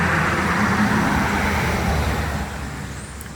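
A car drives past on a nearby road, a broad rumbling roar that holds steady and then fades gradually as the vehicle moves away.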